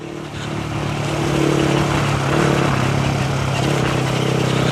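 An R15 sport motorcycle engine revs up and holds a loud, steady roar, building in intensity over a few seconds, close by.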